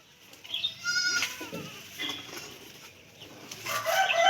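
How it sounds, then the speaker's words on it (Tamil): Goats bleat on a goat farm, high wavering cries repeating near and far with a rooster-like call mixed in, over a low outdoor background. "அந்த ஆட்டுக்குட்டி உள்ளே வரதான், உள்ளே எடுத்து போட்டுமா அந்த ஆட்டுக்குட்டி?"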